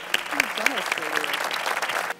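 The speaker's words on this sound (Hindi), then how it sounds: "बहुत सारी तालियां।" Studio audience applause during a game-show segment of a Ramzan iftar television broadcast, a steady crowd clatter running the full length with a voice speaking over it.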